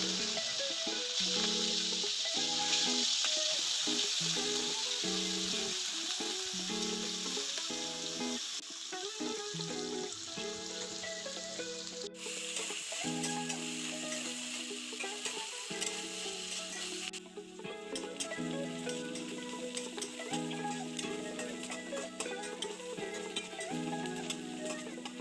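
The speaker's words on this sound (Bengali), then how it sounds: "এবার আমি পেঁয়াজ এবং লঙ্কাগুলোকে খুব ভালোভাবে ভেজে নেব।" Onions and chillies fry steadily in a pan for chilli chicken, a continuous close sizzle with faint stirring scrapes running through the whole stretch, no voices.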